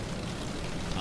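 Heavy rain in the storm-chasing game Storm Chasers hisses as a dense, steady wash of noise, loud and close for about a second with no break.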